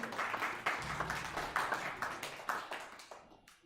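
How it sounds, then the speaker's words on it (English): Applause at an ISKCON temple gathering during Raj Bhoga Aarti, a modest round of hand clapping that rises in bursts and fades out near the end, fairly close and without voices over it. "Please give a big round of applause."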